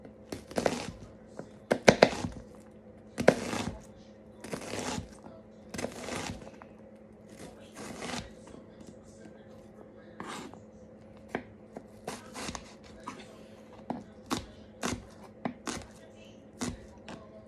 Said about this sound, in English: And then you're going to use your knife and slice downward.